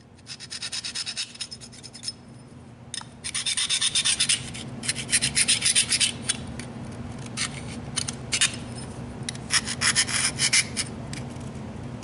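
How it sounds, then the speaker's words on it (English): A caliper jaw is dragged across steel to scribe a center mark for a custom straight razor blade. Close, bright scratching strokes come in bursts of varying length, separated by short pauses, with no voices. "I'll just lock the caliper in place and scratch it on there"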